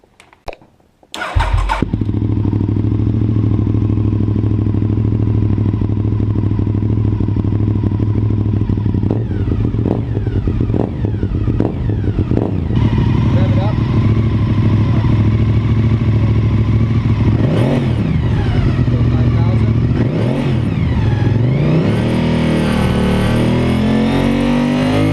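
A motorcycle engine starts and runs steadily at idle during a charging system test, loud and close, with brief revving swells and a faint background clatter; no one speaks.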